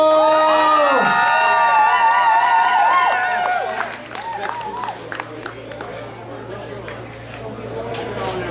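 A live audience cheers, whistles and claps for a tap-dancing performer with magic shoes; a sustained tone rings out first, then loud crowd shouting and steady applause fill the hall, with voices mixed in.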